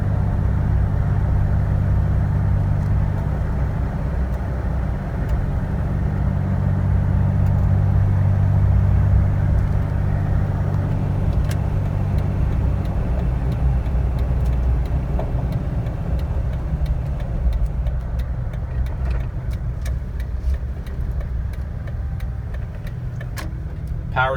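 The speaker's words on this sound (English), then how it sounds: "Jeep drives, steers, hits bumps in the roads very well." A 2006 Jeep Wrangler LJ drives along a road with a steady low engine and tire rumble throughout, road noise easing slightly later with a few light rattles and clicks inside the cabin.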